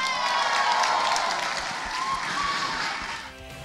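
A live arena crowd at a robot combat event gives loud, sustained applause and cheering with whoops for a fighting robot team. The noise stays dense throughout and eases slightly at the end.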